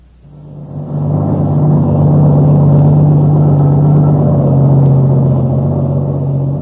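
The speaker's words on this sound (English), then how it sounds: "When the truck arrives, we'll be there." A truck engine rumbles in as a radio drama sound effect, a low steady drone that swells up within the first second and holds loud and constant, with no voices over it.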